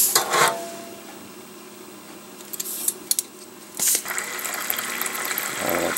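Water gushes and splashes as it is poured into a wet tumbler holding black brass cases with a little Lemi Shine, a steady pour with a few sharper clinks and a louder splash near the end.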